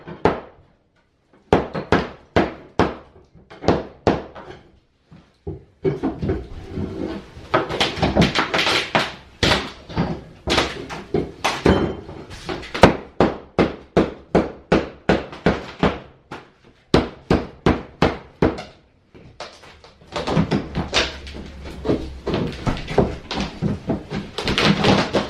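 Hammer blows prying up five layers of old kitchen flooring in a 1925 house, dozens of sharp, close knocks in quick bursts separated by short pauses, with scraping and thuds, no talking.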